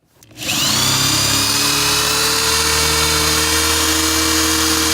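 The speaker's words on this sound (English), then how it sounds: "there are 3 holes on this mounting bracket that you have to drill through" A power drill whirs loudly and steadily after a quick spin-up, drilling through a metal mounting bracket, holding a constant high-pitched motor whine with a strained, grinding edge throughout.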